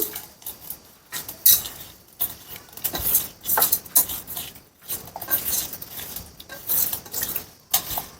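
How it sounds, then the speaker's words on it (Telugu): A utensil scrapes and clinks against a pan in uneven bursts while onion and water are stirred for a gongura prawn curry, close by and with no talking. "దీంట్లో కొంచెం వాటర్ వేసుకొని కొంచెం కలుపుకుందాం"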